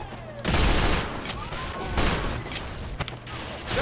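Dense, noisy gunfire and explosions from Team Fortress 2 fill the scene as an engineer player attacks an enemy sentry, heavy continuous rumbling bursts with a few sharper hits, loud throughout.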